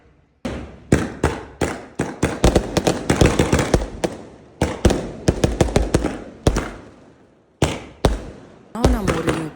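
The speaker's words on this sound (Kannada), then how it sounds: "ಸೊ ಮೇಲಕ್ಕೆ ಹೋಗಿ ಪಟಾಕಿ ಹೊಡೆದ್ವಿ." Firecrackers set off on a rooftop during a family celebration crack in rapid, irregular bursts of sharp, loud, close bangs, each with a short ringing tail, separated by brief pauses, with a voice briefly audible near the end.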